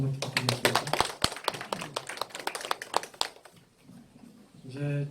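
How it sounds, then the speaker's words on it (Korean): Audience applause at a Korean community briefing opposing an expanded combined heat and power plant in Gwanpyeong-dong, heard as dense rapid clapping that thins out and fades, with a voice speaking at the start and end. "수고해주신 박은영, 김명희님께 박수 한번 다시 한번 부탁드리겠습니다"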